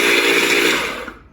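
Red Evolution 4-in-1 blender running on turbo speed, a loud steady high-pitched motor whine that winds down and fades out near the end.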